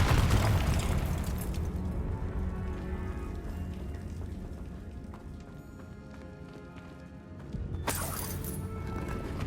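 Confringo fire spell exploding in a Harry Potter video game, a loud booming burst that decays into crackling rumble, followed by a second sharp blast near the end.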